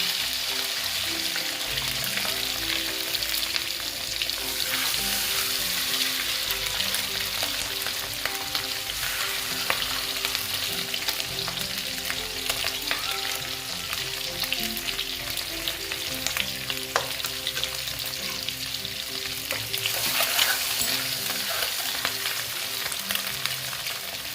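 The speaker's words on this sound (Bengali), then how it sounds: "কাশ্মীরি লাল লঙ্কার গুঁড়ো দিয়ে দিচ্ছি কালারটা আসার জন্য দিয়ে আমি ডিমগুলো ভেজে নিচ্ছি" Eggs fry in a pan with Kashmiri chilli powder on a rooftop, giving a steady, close, dense sizzle and crackle that runs unbroken for the whole stretch with no voices.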